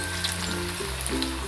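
Greens masala vada frying two or three at a time in oil in a small kadai, a close bubbling sizzle with brief crackles, steady and without any talk.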